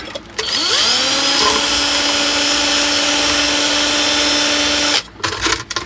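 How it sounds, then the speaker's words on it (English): A power drill whirs steadily at high speed for about four seconds, drilling out glaze in a ceramic pot, starting and stopping abruptly, close and loud, with no talking. "Let's see if I can drill that out."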